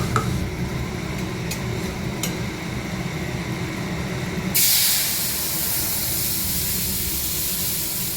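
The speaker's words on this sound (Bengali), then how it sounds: "মশলাটা ঢেলে দেবো এখন, একদম জল টল মিশিয়ে সব কিছু করে রেখে দিয়েছি।" Clicks and low rumble, then a spice paste thinned with water hits a hot pan with a sudden loud, bright hiss that holds steady to the end.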